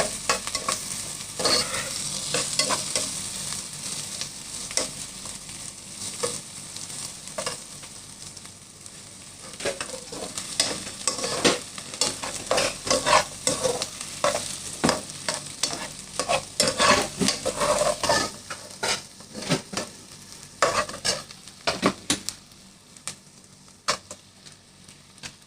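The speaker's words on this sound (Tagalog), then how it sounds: "Igigisa na namin ito." Freshly caught crabs are sautéed in a pan with a loud, close, continuous sizzle full of rapid crackles and popping spatters that swell and ease over time, with no talking.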